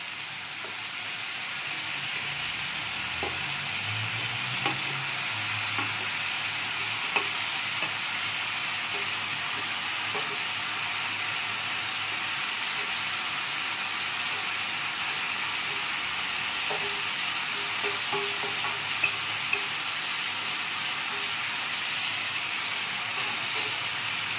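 Fried potato, taro and pumpkin stirred in a hot pan for a vegetarian Nabaratna dish, giving a steady loud sizzle and hiss with scattered scrape and clink sounds of the spatula throughout.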